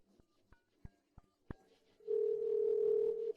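Five short telephone keypad beeps are followed by a loud, steady dial tone that holds for over a second before cutting off.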